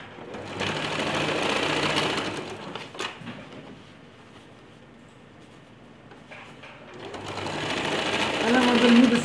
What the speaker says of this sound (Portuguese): passa a costura de pressponto em todas essas três costuras que a gente fez